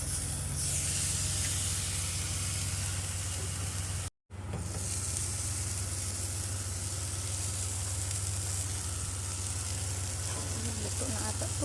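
Burger patties and pork ribs reheating on a hot surface, a loud, dense, continuous hiss and sizzle that cuts out for a split second partway through, then carries on steadily, no talking.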